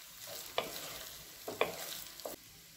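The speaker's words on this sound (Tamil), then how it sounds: "இப்போ இதை நல்லா மிக்ஸ் பண்ணி விட்டுக்கோங்க" Vegetable fried rice stirred and mixed in a pan makes a few distinct scraping strokes of a spoon against the pan. A soft sizzle runs under them, close and with no talking.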